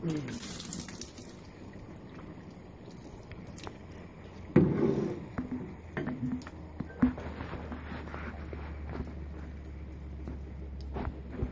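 Catfish fillets rinsed under a running kitchen tap produce a continuous close water stream with splashing and handling bumps, including a louder burst midway.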